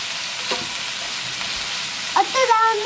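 Yokote-style yakisoba frying on high heat in a hot pan, a steady close sizzle and stir with a brief voice near the end.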